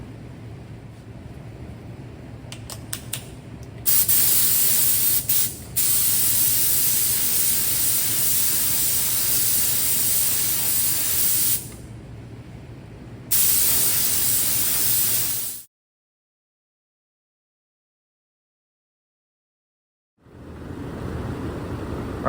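Spray gun laying dark gray sealer onto a steering wheel being repaired, loud hissing bursts in several long passes with short pauses between, then a stretch of silence before another burst starts.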